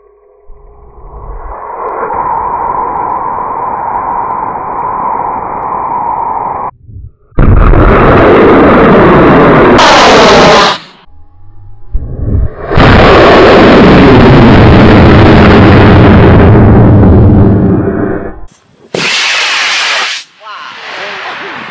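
A heavy custom fiberglass Sky Digger model rocket launches with a loud roaring motor burn and hissing exhaust lasting several seconds, broken by short gaps, with people's voices and exclamations around it.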